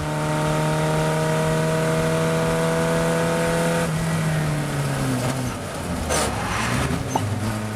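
Race car engine on track holding a high steady note, then dropping sharply in pitch and faltering through a botched gear change before picking up again, loud and close.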